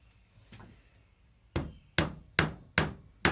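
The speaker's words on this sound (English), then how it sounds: "you're going to take the peg, put it in the hole, and then you can take a hammer" A hammer tapping a wooden peg into a hole in a mug rack, five sharp, evenly spaced knocks after a quiet start, close and loud.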